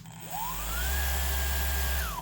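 A Makita 5-inch variable speed random orbit finish sander whirs up with a rising whine, runs steadily at a low, quiet hum, then starts to wind down.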